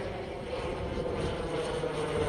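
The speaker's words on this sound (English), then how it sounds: "Let me just get this plane here that's coming." A fixed-wing airplane flies overhead while turning toward a local private airport, its steady engine roar loud and continuous throughout, with no voices present.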